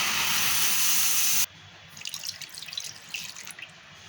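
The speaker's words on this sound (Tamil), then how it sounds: "இந்த ஸ்டேஜில் 1 கப்பு பால் ஊற்றிக்கோங்க." Milk poured into caramelised sugar in a pan sets off a loud, rushing hiss for about a second and a half. It stops abruptly, leaving faint bubbling and crackling.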